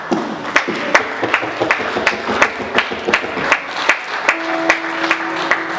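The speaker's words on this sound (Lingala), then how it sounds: "Est-ce qu'on peut acclamer le Seigneur?" A church congregation clapping in unison to acclaim the Lord, loud rhythmic beats about two per second over a murmuring crowd, with a sustained tone entering in the last seconds.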